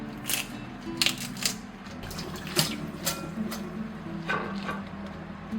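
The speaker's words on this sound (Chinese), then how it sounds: "再洗一点这种小白菜" Bok choy is rinsed by hand in water in a home kitchen, with sloshing and splashing, leafy rustles and a few sharp knocks against a basin, all close up with no voices.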